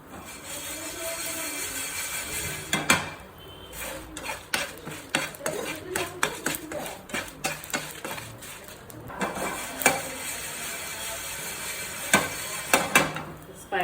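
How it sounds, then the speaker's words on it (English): Whole spices such as cloves, peppercorns, cinnamon stick, green cardamom, bay leaf and red chillies dry roast in a pan for a prawn masala, with repeated clinks and scrapes of a utensil against the pan and light rattling, no voices. "spices are roasted"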